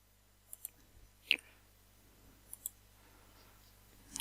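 Sharp computer mouse clicks come in a few separated pairs and singles, close and crisp against a quiet room background with no talking.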